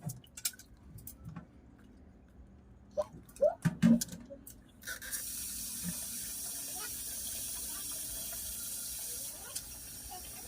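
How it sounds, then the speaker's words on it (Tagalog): Rinse water is poured off a pot of washed rice, with soft splashes and trickles that build into a steady running-water hiss in the second half, while people talk nearby. "dahan-dahan mo lang na i-ganon o para maubos yung tubig"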